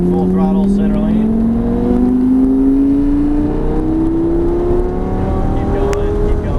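A Lamborghini Gallardo at full throttle on a race track gives a steady engine howl that climbs in pitch, loud and close throughout, with a voice talking over it.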